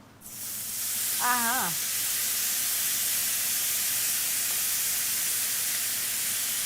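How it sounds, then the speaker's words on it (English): Lamb sizzles loudly on a very hot serving plate fresh from the oven, a steady broadband hiss filling the whole clip, with a brief voice murmuring near the start. "Definitely can hear that sizzle happening."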